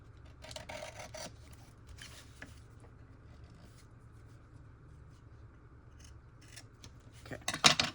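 Scissors cut a piece out of folded paper at a craft table, giving several bursts of crisp snipping and rasping close by, with quieter gaps between them and a louder cluster of cuts at the end.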